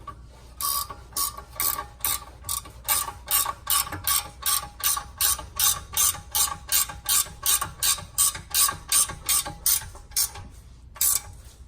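A ratchet wrench tightens a bolt on the rear torsion bar of a Fiat 500 Abarth, giving about two dozen crisp, evenly spaced clicking bursts close up, with brief pauses near the end and no voices.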